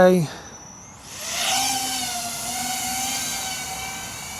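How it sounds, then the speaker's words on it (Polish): Motors of a small sub-250 g Nexa3.5 FPV drone carrying a DJI O4 Pro camera spin up after a few electronic beeps, then settle into a steady, close, high-pitched whine with a rising tone as it takes off. "odpalamy drona i zaczynamy loty"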